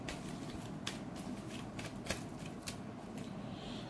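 Tarot cards being shuffled by hand, a soft, faint riffling and rustling with quick flutters against a quiet hiss.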